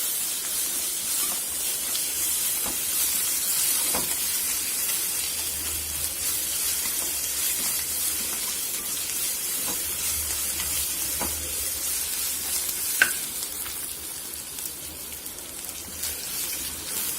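Onions with ginger garlic paste sauté in a pan for a liver fry, making a soft continuous hiss of frying with occasional faint ticks and pops, no talking.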